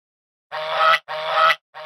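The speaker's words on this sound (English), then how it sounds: "It's a goose." A goose honks in two loud, close, drawn-out calls in quick succession, then a third begins, each a harsh nasal blare with no other sound around it.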